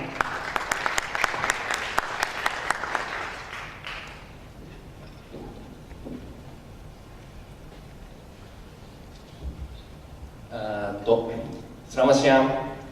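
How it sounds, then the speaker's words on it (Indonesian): Seminar audience applause at a business launch event, a burst of clapping at the start that fades out after a few seconds, followed by quiet room tone before a speaker begins talking. "Berikan tepuk tangan yang paling meriah untuk Sasakawa."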